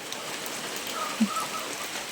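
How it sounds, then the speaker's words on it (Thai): Steady rain falls in a forest village in the morning, a soft even hiss of drops on surfaces with a faint bird call briefly rising above it. "ฝนตกอู้ ช่วงนี้ฝนตกขนาดเลย"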